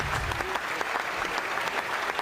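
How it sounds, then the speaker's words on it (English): A studio audience on a podcast gives a guest a brief round of applause, a soft, steady patter of clapping heard alone. "Oh, yes, get that round of applause."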